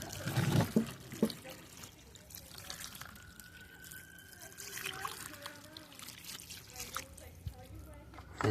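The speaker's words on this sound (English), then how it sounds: "soak it down with some more water and keep it there soak it down for like 15 minutes" Water trickles and dribbles onto salt fish set to soak, soft intermittent splashes and drips heard close, with someone talking over them.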